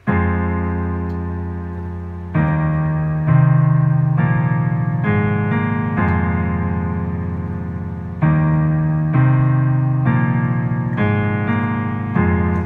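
A piano plays the slow, repeating intro of a song with both hands, full sustained chords and a low bass line, struck every couple of seconds with no voices.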